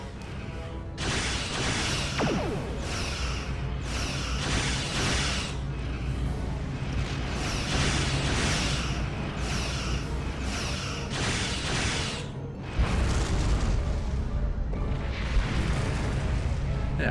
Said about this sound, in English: I was hoping that some of those explosions would have hurt that ship